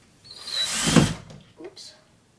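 Power drill driving a screw into a skateboard-wheel coat rack, one short rising whir of about a second followed by a brief clunk, close and moderately loud.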